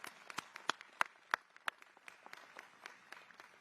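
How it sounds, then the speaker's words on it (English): A university commencement audience clapping, scattered individual hand claps rather than full applause, sharp and distinct, thinning out over a few seconds in a large hall. "You can applaud for that, for sure."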